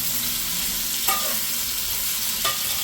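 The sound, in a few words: bitter gourds frying in ghee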